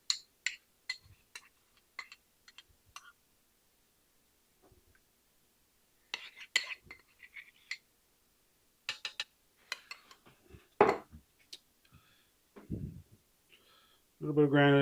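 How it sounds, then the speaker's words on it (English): Whisk mixing ingredients in a bowl for an ube tres leches, sparse metallic clinks and taps against the bowl in scattered bursts with quiet gaps, close by, with a voice speaking now and then. "all we do is just mix it in, mix it together with a whisk."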